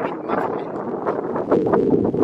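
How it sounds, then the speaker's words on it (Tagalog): Wind buffets the microphone in a steady low rumble, swelling louder toward the end, with no one speaking. "Medyo mahangin, medyo mahangin itong lahat na ito"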